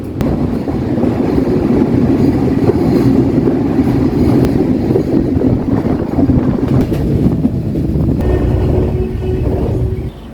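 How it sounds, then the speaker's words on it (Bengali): A passenger train from Dhaka toward Shantahar in North Bengal runs at high speed, heard as a loud, unbroken low rumble mixed with wind buffeting and no pauses. "ট্রেন চলছে বাজার পেরিয়ে খাল পেরিয়ে ব্রিজ পেরিয়ে ছুটে চলছে দুরন্ত গতিতে উত্তরবঙ্গের দিকে"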